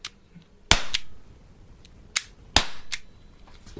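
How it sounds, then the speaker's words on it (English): Several sharp, snappy shots from an Umarex T4E HDR .50 caliber air revolver fired at a box, each a crisp crack followed by a brief ring-out, spaced irregularly with quiet gaps between. "pick up the revolver and try a couple more shots on the box there"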